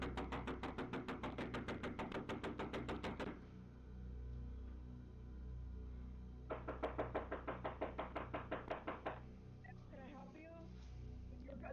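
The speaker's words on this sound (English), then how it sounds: "I'm knocking on the door." Loud rapid knocking on a house door in two long bursts of fast repeated raps, close and forceful, with a pause between and a voice speaking near the end.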